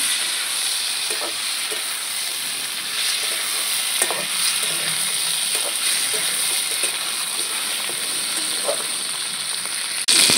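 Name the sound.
chopped tomatoes and chilies frying in pan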